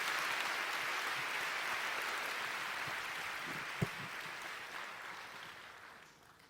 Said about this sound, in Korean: 잠시 박수 해주시겠어요?